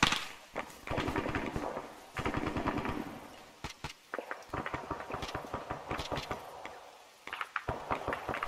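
Gunfire in the video game Arma 3 crackles in rapid automatic bursts with single sharp shots between, loud and close, pausing briefly before resuming.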